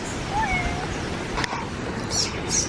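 A cat named Mimine gives a faint, wavering meow followed by a couple of short, higher squeaky mews, fairly close, over outdoor ambient noise.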